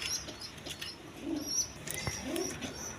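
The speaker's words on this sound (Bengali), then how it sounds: "এক পেয়ার টেরি কবুতর আছে, পাকিস্তানি টেরি কবুতর" A pair of Pakistani teddy pigeons coo softly, with low, throaty coos coming twice over faint background noise and a few light chirps.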